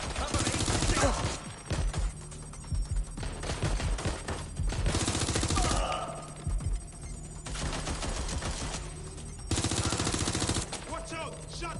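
Gunfire in Watch Dogs: Legion, loud bursts of rapid automatic shots separated by brief pauses, three main volleys with scattered single cracks and some game voices in between.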